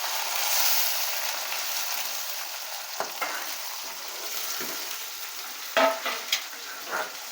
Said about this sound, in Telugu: ఎర్రగడ్డలు ఎర్రగా అయిపోయాయి కాబట్టి ఇప్పుడు టమాటాలు వేసేసుకో.